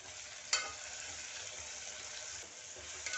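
Chopped tomatoes cook with onions in a pan for a spiced potato rice dish, giving a steady close sizzle throughout, with a couple of brief clinks of stirring.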